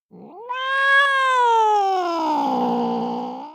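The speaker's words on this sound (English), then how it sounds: "There will be stray cats." A cat lets out a long, drawn-out meow, rising sharply and then sliding slowly downward, close and loud with no other sound.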